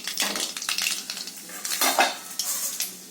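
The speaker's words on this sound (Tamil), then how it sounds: "இப்போ எண்ணெய் காயுது. இதில் கடுகு பருப்பு," Mustard seeds and dal hitting hot oil in a pan, giving a close, crackling sizzle with spoon and metal-pan clatter throughout, a burst of sputtering popping near the middle.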